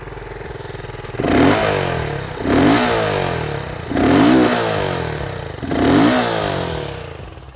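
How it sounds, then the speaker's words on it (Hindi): A single-cylinder 652cc liquid-cooled DOHC motorcycle engine revving four times in a steady rhythm, each throttle blip rising from a thumping idle, loud and close with no talk. "सिंगल सिलेंडर का 652 सीसी का इंजन, जो एक लिक्विड कूल्ड इंजन है, DOHC इंजन है"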